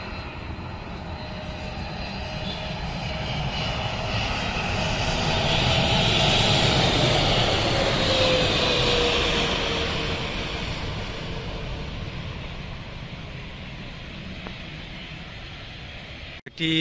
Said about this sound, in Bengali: বোয়িং 777 মডেলের সাদা সবুজ রঙের এই বিমানটি অত্যাধিক চমৎকার এবং দেখলে চকচক করে